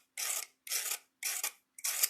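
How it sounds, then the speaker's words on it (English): Four rasping strokes of a 180-grit sanding stick on copper corners, evenly spaced with short pauses, close and crisp with no talking. "So I'm going to take my new favorite sanding stick and"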